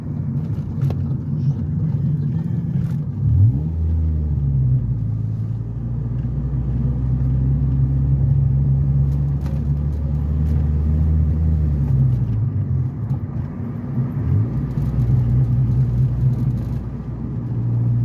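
A manual-transmission car drives on, its engine droning low and steady, with the pitch rising and falling as the revs change through gear shifts, and no talking.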